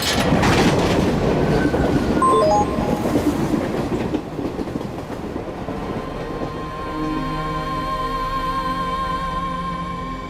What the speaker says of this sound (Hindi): सुबह से ट्रेन में ही तो है, मिल चुके होंगे।